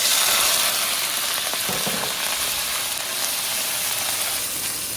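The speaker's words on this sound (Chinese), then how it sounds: "刚刚切好的泡椒呢，放在这牛肉里面一起炒" Beef strips and freshly cut pickled chilies stir-fry together in a hot pan, giving a steady, dense sizzle that carries evenly from start to finish, with a few faint scraping touches near the middle.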